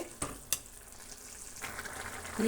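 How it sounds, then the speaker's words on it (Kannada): Potato curry simmering in a pan makes a quiet, steady bubbling hiss, broken by two sharp clicks near the start and a light scrape toward the end. "ನೀಟಾಗಿ ಕಲಸಿ ಒಂದೆರಡು ನಿಮಿಷ ಕುದಿಸೋಣ"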